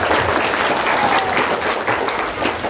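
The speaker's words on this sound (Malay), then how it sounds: "Coba tepuk tangan kepada Osim dulu." Students at a madrasah gathering for the Islamic New Year applaud loudly and close by, a continuous burst of clapping that holds steady for nearly three seconds.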